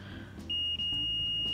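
A multimeter in continuity mode sounds a continuous high electronic beep while testing a shorted capacitor on a dead Samsung Galaxy S6 board, starting abruptly after a faint click and briefly interrupted once before holding steady.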